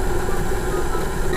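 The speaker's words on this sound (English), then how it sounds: "I'm just gonna mush them in the KitchenAid with the paddle" A KitchenAid stand mixer with the paddle attachment mashes bananas for chocolate chip banana bread, giving a steady, loud motor hum with a low churning rumble that runs without pause and with no one talking.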